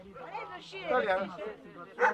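Dogs held in inhumane conditions whimper and yip in short, high cries, fairly faint against the surroundings, with a voice speaking over them.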